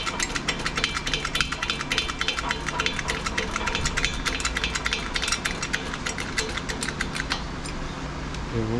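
A hand crank or ratchet tool is turned to tension a part while a charging system is being reassembled, producing steady mechanical clicking and gear-like ratcheting at close range, continuous throughout.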